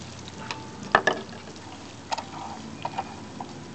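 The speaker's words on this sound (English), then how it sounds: "while your onions are sauteing" Onions and rice sautéing in olive oil for Greek stuffed grape leaves give a faint, steady sizzle, with a few sharp clinks and stirring knocks scattered through it.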